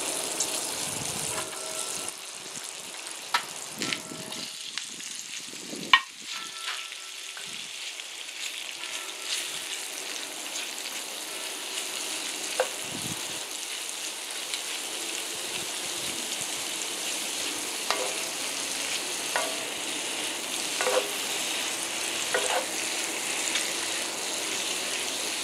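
Sliced pork belly sizzles steadily in a hot pan, a dense continuous hiss with occasional sharper pops and crackles, close and fairly loud throughout.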